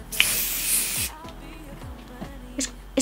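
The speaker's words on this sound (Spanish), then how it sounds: "se supone que es un spray para fijar el maquillaje" A makeup setting spray in a lacquer-style aerosol can lets out one loud, sustained hiss lasting about a second, followed by quiet handling noises and a few faint clicks.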